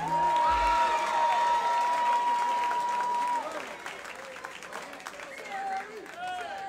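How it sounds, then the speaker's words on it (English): A fight-event crowd applauds two fighters, loud sustained clapping and cheering filling the hall, while an announcer's voice carries over the top. "how about a round of applause for these two fighters?"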